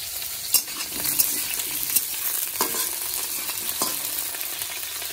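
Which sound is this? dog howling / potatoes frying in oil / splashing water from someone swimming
potatoes frying in oil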